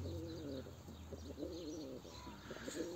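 Several pigeons coo in soft, repeated warbling bursts close by in a loft, with faint chirps around them and a low steady hum underneath.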